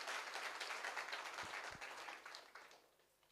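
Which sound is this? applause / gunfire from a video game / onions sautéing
applause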